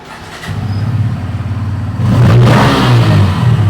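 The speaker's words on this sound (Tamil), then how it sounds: "இதில் பைக்கில் சத்தத்தை கொஞ்சம் ரேஸ் பண்ணி காட்டுங்க ப்ரோ" A nearby motorcycle engine revs up loudly in a steady roar, climbing in pitch and growing louder as the throttle opens further.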